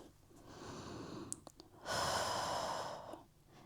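Breathing during a Pilates stretch for ballet dancers at home: a soft, slow exhale, then a small click or two, followed by a long, louder, airy breath out close to the microphone.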